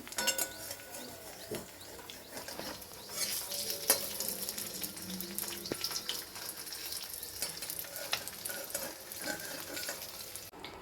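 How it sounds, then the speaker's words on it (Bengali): Fish chops frying in hot oil, a steady close sizzle and crackle running throughout with occasional sharper pops and stirring clinks, no talking. "এখন আমরা মাছের চপগুলোকে ভেজে নিচ্ছি"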